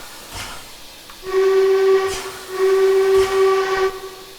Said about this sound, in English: It's not a bad whistle sound.